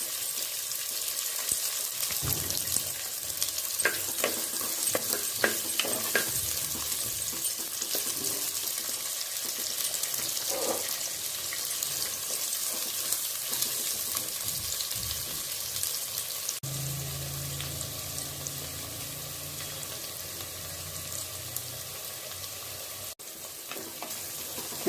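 Onions sauté in a pan for a chicken leg piece gravy, giving a continuous close sizzle with occasional stirring clicks. Later the sizzle quiets and a lower, fuller wash takes over. No voices are heard.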